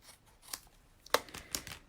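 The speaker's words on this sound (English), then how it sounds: "So let's just cut the excess." Scissors snip through excess cardstock while making a Christmas card with wreath dies, giving a few sharp, close cuts spaced over a couple of seconds in an otherwise quiet room.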